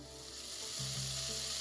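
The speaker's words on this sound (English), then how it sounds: "There go my onions, green pepper, red pepper," Onions, green and red peppers and minced garlic hit a hot pan with bacon and sizzle steadily, a soft close frying hiss that swells slightly partway through.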